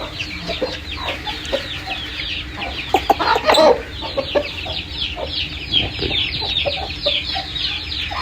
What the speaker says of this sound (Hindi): बड़ा टॉप क्लास पट्टा है जी मुर्गा मेरा चैंपियन ब्रूसली मुर्गा।